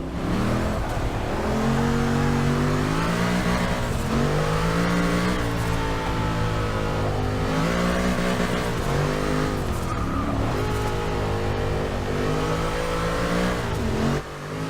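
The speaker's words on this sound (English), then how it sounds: "Listen to that blow-off valve sing." A '64 Impala in a racing video game roars around a nighttime track at high revs, its engine and blow-off valve whining continuously, with pitch rising and falling through gear changes.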